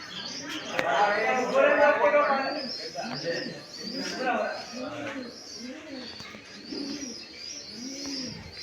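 Pigeons perched on a building in Junagadh near Girnar coo in soft, repeated rolling calls close by, while a person talks over them.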